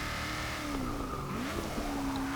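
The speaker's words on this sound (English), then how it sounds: "And the engine actually sounds really rather good as well" A Hot Wheels race car in Forza Motorsport 6 drones at high revs, its engine pitch swooping down and back up between gear changes, with faint tire squeal.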